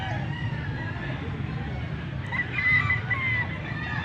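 A young gamecock (stag) at a market in Angeles City, Pampanga, lets out a short, strained crow partway through, close by, over a low murmur of background chatter and noise.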